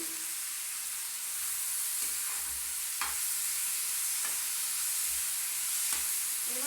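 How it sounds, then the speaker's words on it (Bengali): Onion and garlic frying in hot oil for a bean mash: a continuous loud sizzling hiss with occasional soft stirring scrapes and no voices. "এই তেলটা যতটা ভাজা ভাজা হয়ে যাবে খেতেও দারুণ লাগবে।"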